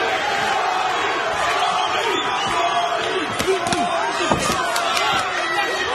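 A boxing arena crowd roars continuously to rally the local favourite during the sixth round, with shouts and yells rising over the din, along with sharp thuds and some commentator talk.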